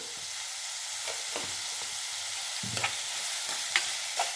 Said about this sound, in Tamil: நல்லா நல்லா செவக்க வறுக்கணும் வெங்காயம் நல்லா வதங்கிருச்சு